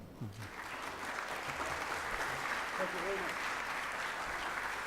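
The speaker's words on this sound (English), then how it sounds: "So please, a big applause to Paul Seligson." An audience at an international convention for English teachers breaks into steady, continuous applause that sounds somewhat distant, with a brief voice near the start.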